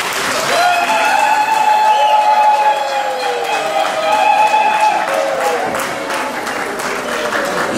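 Applause at a 60th birthday party, a loud sustained burst of clapping mixed with cheers and voices, easing off slightly toward the end.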